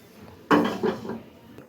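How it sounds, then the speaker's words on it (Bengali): A metal wok (karai) is set on the stove to start a dal of chicken feet and skin: one sharp clanging knock, then a short resonant ring that fades over about a second, close and fairly loud. "চুলায় কড়াই দিয়ে দেব"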